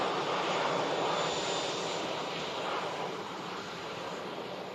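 An empty AirTanker Airbus A330 jet takes off at Manchester Airport, its engines giving a loud, steady broadband roar that holds throughout and eases slightly toward the end.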